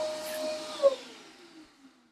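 A Parkside wet and dry vacuum cleaner runs with a steady whooshing drone, fairly quiet and close, with a brief louder bump partway through.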